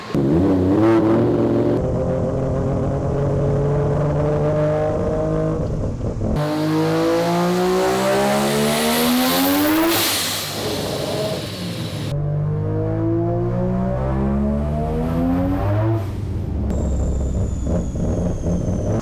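A three-rotor Mazda RX-7 revs hard through repeated power pulls, its loud, high, rising engine note sweeping upward, dropping off, then climbing again, close and with no speech.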